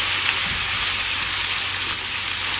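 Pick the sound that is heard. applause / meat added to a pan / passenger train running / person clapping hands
meat added to a pan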